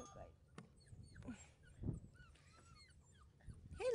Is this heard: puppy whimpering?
yes